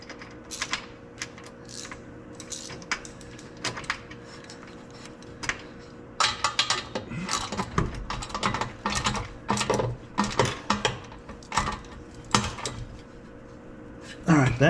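Running board bolts get tightened on a 2023 Toyota Tacoma TRD Off Road, rapid ratcheting clicks in bursts growing busier and louder toward the end, close by over a faint steady hum.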